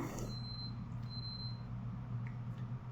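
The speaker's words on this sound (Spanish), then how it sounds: "Disculpen si hay un pitido por allí, es un aparato que no sé qué le pasa." A malfunctioning electronic device emits brief high beeps, faint and intermittent, over a low steady hum indoors.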